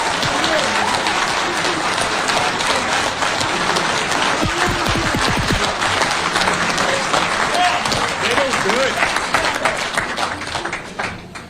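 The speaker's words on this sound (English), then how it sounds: "that was quite the applause for that question" A town hall audience breaks into loud, sustained applause, dense clapping filling the room throughout, with voices talking over the crowd.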